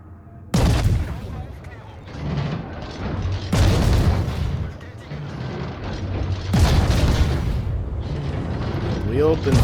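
Heavy naval guns on the destroyer Grozovoi fire in a warship combat game, engaging the Musashi: three deep, booming salvos a few seconds apart with long rumbling tails, heard under steady spoken commentary.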